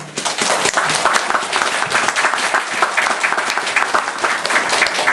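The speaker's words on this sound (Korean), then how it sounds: "그분들 위해서 박수 한번 주세요" A church congregation claps loudly, dense overlapping hand claps from a crowd that fill the whole stretch evenly, close and sustained with a few sharper individual claps standing out.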